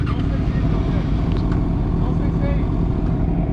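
A Kawasaki ZX6R sport bike with a full-system Graves exhaust rumbles steadily nearby with a deep, even engine drone, while people talk over it.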